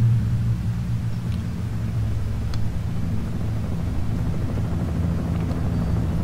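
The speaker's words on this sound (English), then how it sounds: "Oh, there's a helicopter somewhere." A steady low rotor thrum from a distant helicopter in the video game Alan Wake, constant and unbroken throughout, with no voices.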